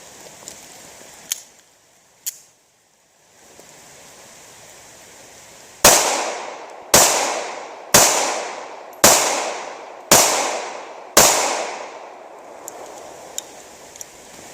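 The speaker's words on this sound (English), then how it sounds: "the Ruger LCP-II with the 90 grain Hornady Z-Max." Six sharp, loud pistol shots from a Ruger LCP II firing 90 grain Hornady Z-Max rounds, spaced about a second apart, each with a short ringing decay outdoors, preceded by a couple of faint clicks.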